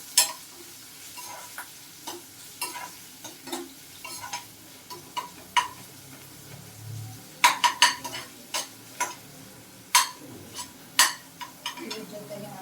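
Onions fry in a pan for a Karnataka-style capsicum dish, a soft steady sizzle under frequent sharp clicks and scrapes of a spatula against the pan, the taps coming faster toward the end.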